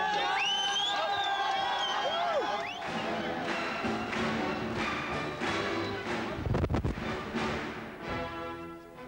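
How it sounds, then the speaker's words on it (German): Spectators at a horn sled race in Villanders knock and cheer while a commentator talks over the loudspeaker, the crowd rising into a burst of rhythmic noise partway through. "Und Publikum klopft schon."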